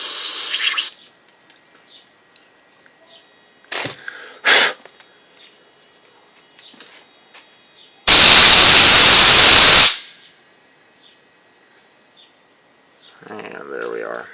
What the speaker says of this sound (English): Get a little carburetor cleaner in there.